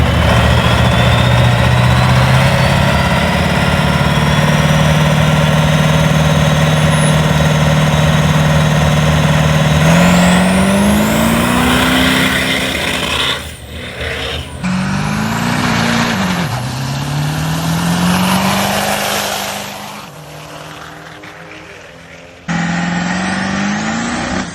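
A heavily modified Ford 7.3 Powerstroke diesel truck engine runs loud and close, idling steadily before several revs rise and fall, then settling back down.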